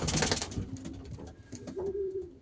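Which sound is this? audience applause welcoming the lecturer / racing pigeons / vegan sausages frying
racing pigeons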